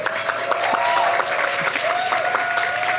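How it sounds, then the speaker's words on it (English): Audience applause for contest finalists during a panel event in Brazil, loud, dense clapping with distinct individual hand claps standing out, mixed with faint tonal sounds and crowd murmur, steady throughout. "let's give them a round of applause"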